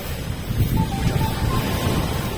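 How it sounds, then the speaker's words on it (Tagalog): Wind and choppy surf at Puerto Galera beach, a steady broad roar of waves with gusts buffeting the microphone, close and continuous. "medyo maalon. Siguro dahil windy."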